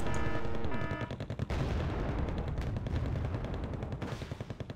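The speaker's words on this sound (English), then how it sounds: "Transports in machine gun fire there." Sustained machine gun fire rattles in the Wargame Red Dragon strategy game, loud rapid bursts with dense overlapping shots and a brief break before the firing continues, no voices heard.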